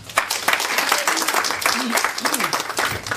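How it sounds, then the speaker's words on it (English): A church congregation at a baby dedication in Strasbourg applauding, with steady, dense clapping from many hands filling the room, while voices cheer and talk underneath. "So let's clap for him."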